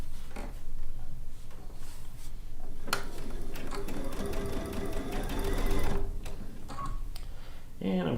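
A home sewing machine stitches colorful quilt fabric in a studio, with short mechanical runs and then a longer steady close whir, broken by clicks and pauses, while a voice can be heard faintly at times.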